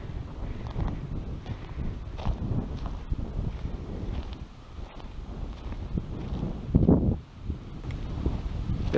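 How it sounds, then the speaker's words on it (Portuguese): Wind buffets an outdoor microphone near the Capela da Santa da Cara Limpa, a countryside chapel in Igaraçu do Tietê, Brazil, a steady low rumbling roar with gusts that swell and one stronger blast, no voices over it. "tá ventando um pouco, espero que o áudio não esteja tão ruim"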